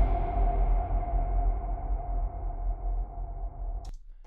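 A deep electronic kick drum blooms into a long, dense digital reverb tail that washes on steadily for about four seconds before cutting off abruptly, with no voices present.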